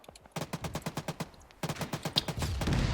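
Automatic gunfire in Arma 3, two sustained bursts of rapid, evenly spaced shots, fairly close and crisp, with a short pause between them and rumbling noise building at the end.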